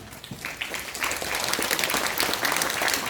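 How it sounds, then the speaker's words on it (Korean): Audience applause at a public housing district briefing session, a dense, sustained wash of many hands clapping that swells slightly and holds steady throughout. "나올 때 큰 박수를 부탁드리겠습니다."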